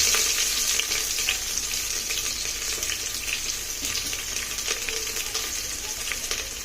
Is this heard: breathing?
no